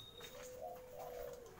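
Doves coo at a bird farm in Mojokerto, a soft rounded call rising and dipping over about a second and a half, close and clear above faint background chirps, with no voices.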